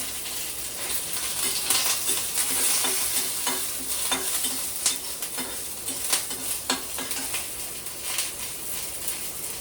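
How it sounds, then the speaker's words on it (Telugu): Sliced green chillies frying in hot oil for a curry, a steady close sizzle with occasional stirring scrapes and clinks throughout. "అందుకని బాగా వేగాలి కూడా పచ్చిమిరపకాయ"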